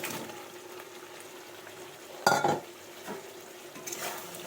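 Soybean chunks and potato stirred in spiced oil in a pan over a low gas flame, with quiet background sizzling, one sharp scrape-and-clatter of a utensil and a few softer stirring knocks, no talking.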